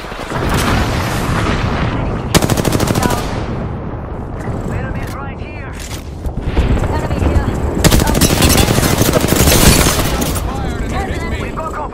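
Rapid gunfire bursts in a frantic Apex Legends firefight, loud and close, with sustained automatic volleys and sharp single shots layered densely over game effects while a player talks throughout.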